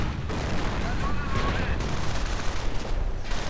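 Stormtroopers with dual BARs open fire in a strategy video game, giving a dense, continuous rattle of automatic gunfire and battle noise across the whole stretch.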